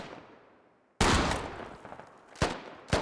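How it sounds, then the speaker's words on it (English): A loud gunfire burst from the video game Squad cuts in sharply after a faint tail, followed by two more distinct shots about half a second apart. "This is pretty much blind fire right now."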